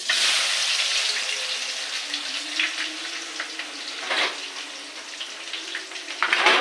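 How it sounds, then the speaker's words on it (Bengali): Chopped onions frying in hot oil with whole five-spice seeds, a steady broadband sizzle close up that swells and eases with stirring, no voices over it. "এবারে পেঁয়াজ কুচিগুলো দিয়ে দিচ্ছি"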